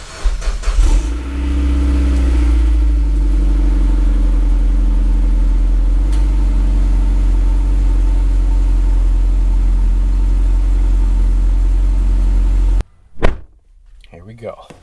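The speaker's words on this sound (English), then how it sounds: "let's do a cold start for the boys" A Mitsubishi Lancer Evo X cold-starts with a short cranking burst, then settles into a loud, steady high idle close by for about twelve seconds before cutting off, followed by brief handling noises.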